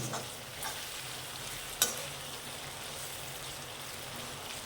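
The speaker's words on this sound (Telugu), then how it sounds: "ఆలుగడ్డలు కొంచెం ఫ్రై కావాలి" Potatoes frying in a pan for aloo poha, a low steady sizzle with a couple of brief stirring clicks, close and moderately quiet, no one speaking.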